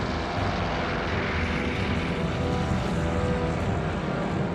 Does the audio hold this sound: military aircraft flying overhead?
yes